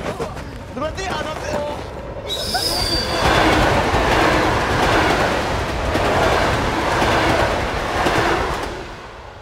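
A train rumbles past close by with metallic wheel squeal and clattering, loud and sustained, while people talk and exclaim over it.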